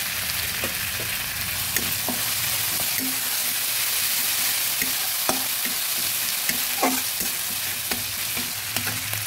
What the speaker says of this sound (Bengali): ভালো করে আদা রসুনটা ভেজে নেব।